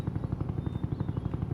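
Helicopter in the Roblox Jailbreak video game, a steady pulsing rotor chop with a low engine drone, loud and continuous with no talk.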